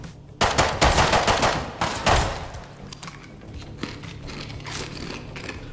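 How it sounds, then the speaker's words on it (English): Gunfire in the survival video game Rust: a burst of sharp, loud shots in quick irregular succession, then fainter, scattered reports and thumps trailing off over a low background hum. "I'm getting shot at."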